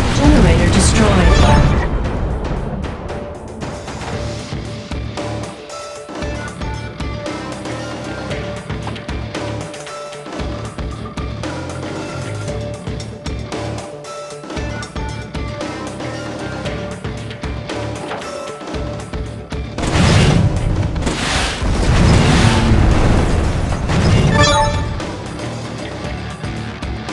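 Airstrike explosions in the mobile war game Warfair on iOS, heavy booming blasts at the start and again later in a cluster, with quieter game rumble and voices filling the stretch between.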